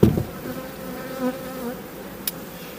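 Honeybees buzz close by around an opened spring hive during smoking, with a steady droning hum and a brief louder buzz right at the start.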